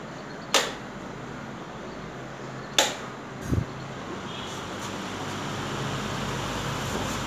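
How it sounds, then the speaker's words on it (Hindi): A table fan set up as a homemade cooler runs with a steady, even whir, broken by a few sharp clicks and knocks near the start. "फिर आपको पंखे को ऑन कर देना है।"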